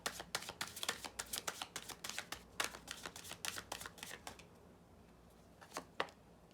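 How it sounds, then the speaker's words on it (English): Rapid crisp riffling of tarot cards being shuffled close by, a quick burst of flicks that slows into a few scattered taps. "Last shuffle, and I take from the middle."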